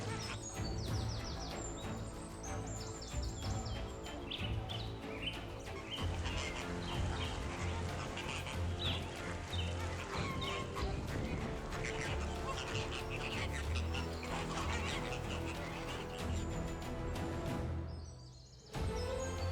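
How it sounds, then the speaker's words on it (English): A large flock of flamingos calls in the Kalahari, a dense, continuous honking and chattering chorus from many birds at once, full and steady before fading out near the end. "High protein content attracts large flocks of flamingos."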